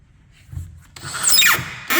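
A power drill driving screws into a wooden arcade cabinet door, with a short burst of rising whine followed by a second drill burst starting near the end, close and fairly loud.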